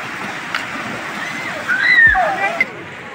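Water sloshing and splashing where people swim, a steady rushing wash with a brief louder burst near the middle and faint voices underneath.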